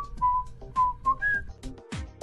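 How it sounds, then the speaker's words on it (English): A person whistles a short tune, a few clear sustained notes rising and falling in pitch across about two seconds, close and alone. "whistle a tune"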